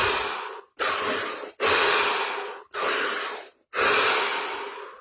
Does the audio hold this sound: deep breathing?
yes